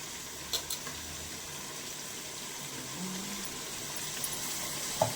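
Ginger-garlic paste frying in a pan for chicken biryani, a soft steady sizzle running throughout at low level, with a few small clicks early on and a louder clatter at the very end.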